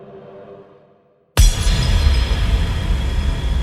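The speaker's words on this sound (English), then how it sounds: "the sound of glass shattering fills the house" Inside a house, glass suddenly shatters after a near-silent moment, a loud sharp crash followed by a sustained ringing spray of breaking fragments.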